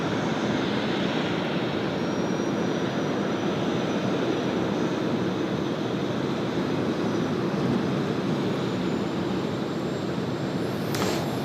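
A Boeing 747 taxies at Sydney Airport with a steady, loud, broad jet-engine roar and whine that holds constant throughout, with no talking.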